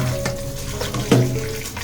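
Running tap water pours steadily over rice and lentils being washed for khichuri in a kitchen sink, a close, continuous splashing stream with a brief louder splash partway through.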